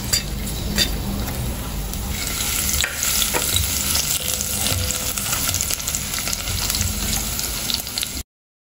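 Tofu frying in cooking oil with kangkong greens on the way, a steady, loud sizzle and crackle running throughout with occasional stirring scrapes and light utensil clinks, no talking.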